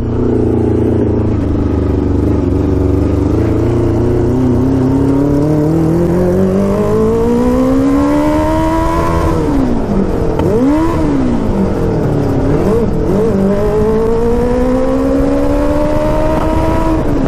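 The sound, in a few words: 650cc shifter kart engine revving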